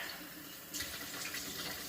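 Hot water runs steadily from a tap, a broadband hiss that grows louder partway through as the flow increases, with no talking.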